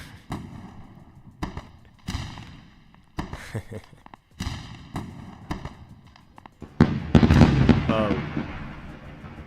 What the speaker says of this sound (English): Now we're going to do a firework